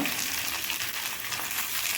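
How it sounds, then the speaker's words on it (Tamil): Eggplant sizzles steadily in hot oil, a constant crackling fry with no talking. "நல்லா எண்ணெயிலேயே சூப்பராக ஃப்ரை ஆகுங்க"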